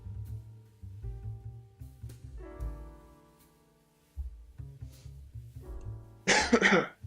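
A single harsh cough bursts out near the end, close and loud, after a stretch of low steady humming and tonal background sound.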